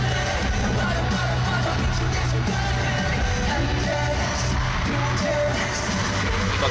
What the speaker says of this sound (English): the crowd are just constantly screaming